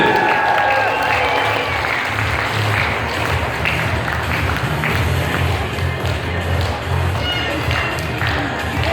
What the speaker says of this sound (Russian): Громкие аплодисменты.